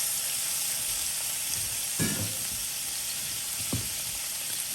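Penne pasta frying in a little olive oil in a pan over medium heat gives a steady, close sizzle, with a couple of brief stirring knocks and no talking.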